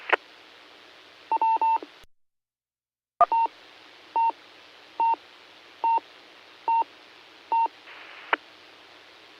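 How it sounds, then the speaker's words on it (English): A sequence of DTMF touch-tone beeps sent over an amateur radio frequency: a quick burst of tones, a brief silent gap, then six evenly spaced single tones, with a steady hiss of radio noise beneath. "Please stand by for tones."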